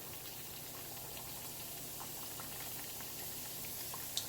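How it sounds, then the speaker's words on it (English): Beef and cheese empanadas, two at a time, frying in hot oil with a soft, steady bubbling hiss and faint patter of small pops, quiet and even throughout with no talking. "I'm probably going to fry this somewhere between maybe 5 to 6 minutes"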